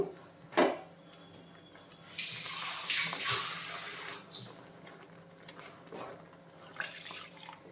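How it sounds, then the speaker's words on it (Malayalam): Water splashes and pours into a cooking pan in a couple of bursts while making a raw mango curry, with small clinks and bumps between them, close by in a quiet room. "കുറച്ച് വെള്ളം കൂടെ ചേർക്കുന്നേ"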